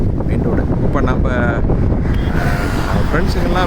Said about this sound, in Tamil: காற்று ஓவர் காற்றுங்க. உழுக்குன்னு உழுக்குது வண்டியை.